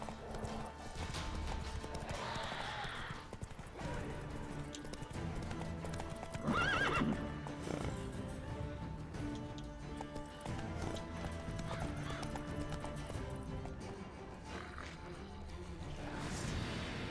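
Horse hooves clip-clop at a steady gallop through the fantasy game The Witcher 3: Wild Hunt, with a sharp neigh partway through over a constant layer of game music and ambience.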